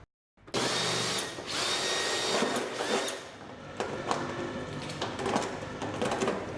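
A battery-powered drill boring holes while building a Liter of Light fixture runs in several close, loud whining bursts, with brief pauses and clicks between them.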